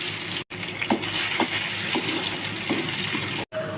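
Cashews frying in hot oil along with mustard seeds and cumin, a steady loud sizzle with a few small pops and crackles throughout, close up, no voices.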